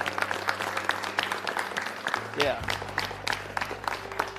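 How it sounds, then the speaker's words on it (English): An audience applauds the bands at the 13th annual Braveathon, a live music event, with scattered claps under a sustained tone while a voice calls out briefly. "So give a round of applause for all of them."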